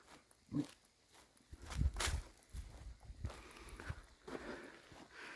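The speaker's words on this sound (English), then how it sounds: "You may be able to hear my footsteps, and as I walk towards this windrow, you may be able to hear the little bit of raindrops" Footsteps crunching at a slow walking pace toward a compost windrow outdoors on a cold day, faint and near, with scattered soft ticks of light raindrops in between.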